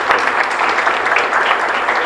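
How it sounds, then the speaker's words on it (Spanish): A congregation at Mass in a chapel applauding together, a loud, dense wash of many hands clapping continuously throughout, with no talk over it. "Fuerte aplauso entonces para todos ustedes"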